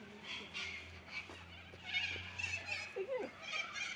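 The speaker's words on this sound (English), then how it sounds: "Oh my god, these are parrots. And like, million of them." A large flock of parrots calls in Melbourne, a busy mix of squawks and chirps at moderate distance, layered with a sharp nearby screech and people talking beneath it.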